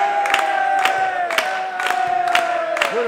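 A men's volleyball Superliga match crowd in Gijón cheers and shouts in rhythmic bursts, a steady chanting roar with a sustained whistle-like tone running underneath, fairly close and loud.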